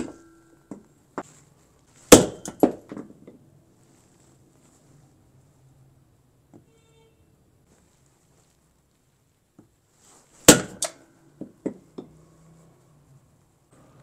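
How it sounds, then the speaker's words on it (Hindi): Two bursts of sharp hammer blows on a compressor shaft, each a loud strike followed by a few quicker, lighter knocks, with long quiet gaps between them in a workshop setting. "रख के इसके ऊपर यहाँ पर हैम्बर से सट लगानी है, मतलब हथौड़े से सट लगानी है"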